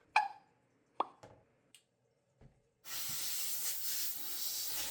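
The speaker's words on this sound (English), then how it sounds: "My sister gave me this little steam cleaner for my birthday" A small handheld steam cleaner starts after a few clicks and taps, then sprays hot steam in a steady, close, loud hiss that lasts about two seconds.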